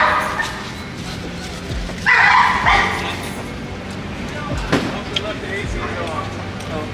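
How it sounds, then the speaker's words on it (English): A dog barks several times in short bursts with some yips and whimpers, fairly close by, while people talk over and between the barks. "That's that man with that dog."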